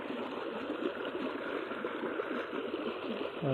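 Irrigation water rushing and gurgling steadily into a peanut field, a constant close-up flow with no pauses and no voices.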